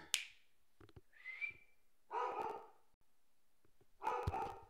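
A dog barks indoors in a few separate bursts, with sharp high whistle-like yelps between them, heard fairly close and alone with no talk.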